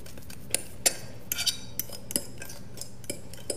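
A utensil scrapes and taps cake batter from a bowl into a gray Pampered Chef stoneware rectangular baker, giving a series of close, irregular clinks and scrapes with short pauses between them.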